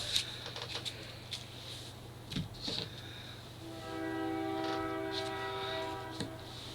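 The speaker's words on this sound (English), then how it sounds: "you'll have to pardon the train in the background" A train rumbles in the distance and sounds a long horn blast partway through, with a few birds calling faintly around it.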